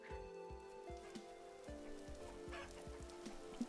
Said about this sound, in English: Oh, there's chickens.